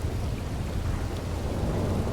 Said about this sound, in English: Right, now we're just hanging out in a storm.